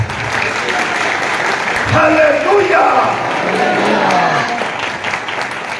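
Loud, sustained applause from a church congregation during a sermon, a dense clapping wash running throughout with a voice exclaiming over it.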